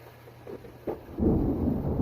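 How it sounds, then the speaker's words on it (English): Thunder rolls in with a low, swelling rumble that builds and holds, fairly close and loud after a quieter lead-in. "you guys hear that thunder?"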